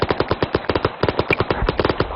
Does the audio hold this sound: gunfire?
yes